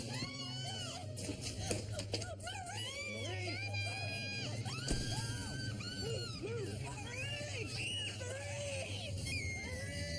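A woman screams in terror, high wavering shrieks and wails rising and falling almost continuously over a steady low hum, with other voices and commotion mixed in.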